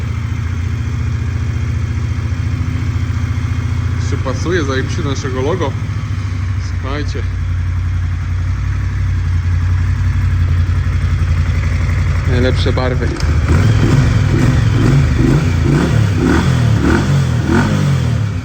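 A 2012 Moto Guzzi 1200 Sport motorcycle engine idles with a steady low throb, then rises into a louder, rhythmic rumble; someone talks over it throughout.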